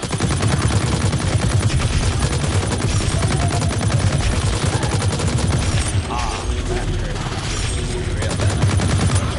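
Rapid, sustained automatic gunfire from shooting zombies in Blacklight Retribution's Onslaught mode, dense and loud with overlapping bursts rattling almost continuously for the whole stretch, easing briefly partway before picking up again.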